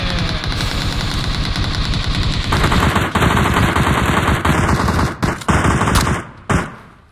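Automatic gunfire in the PUBG video game, a dense unbroken stream of rapid shots at close range that keeps going, then breaks into a few short bursts and single cracks before fading out.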